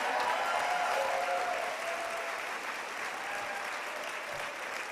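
Warm applause from an audience at an annual celebration event, giving a singing group another round; a dense, even wash of clapping that holds steady and tapers slightly over several seconds, with faint cheering underneath.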